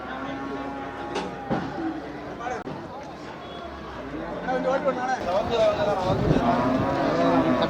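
Cattle low and moo amid the crowd at Melapalayam cattle market, with several animals calling close by over a continuous murmur of people talking.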